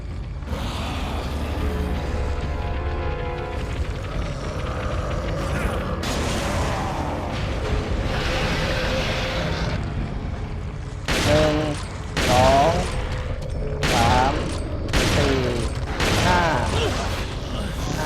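Striker shotgun blasts hit boss U3 in the Resident Evil 4 video game, with about half a dozen loud, sharp shots in quick succession near the end after mechanical creaks and ambient game noise, and a voice talks in between.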